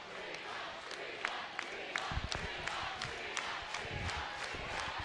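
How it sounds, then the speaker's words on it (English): Basketball crowd at a high school gym roaring steadily after Fremont's 52-48 win at Angola, a dense wash of cheering and shouts with scattered sharp whoops and claps, loud and sustained throughout. "Listen to that crowd."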